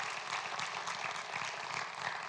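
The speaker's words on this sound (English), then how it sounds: "So Eliana, would you mind giving her a welcome? Round of applause." A church audience welcomes a missionary guest with a short burst of steady, even applause, many hands clapping together at a moderate distance.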